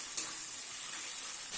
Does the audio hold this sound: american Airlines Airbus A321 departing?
no